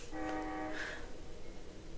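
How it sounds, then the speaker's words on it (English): A train horn sounds faintly in the distance, a sustained multi-tone blast lasting about a second, followed by low rumbling background noise with no talking. "Oh my god, is the train back?"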